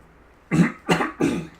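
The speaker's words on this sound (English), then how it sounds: "Sorry again if I cough." Three short, fairly loud coughs from someone painting miniatures indoors, coming in quick succession after a quiet pause.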